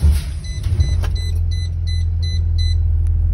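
Vehicle engine cranking and starting, a low steady rumble settling into idle beneath a series of short repeated electronic beeps, close and fairly loud.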